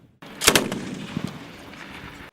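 A Kalashnikov assault rifle fires a quick pair of sharp, loud shots close by, followed by a fainter report and a short decaying echo, with no voices.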